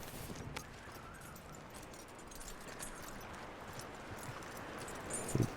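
A horse's hooves clip-clop steadily in the video game Red Dead Redemption 2, quiet and even under a faint game backdrop, with a few louder knocks near the end.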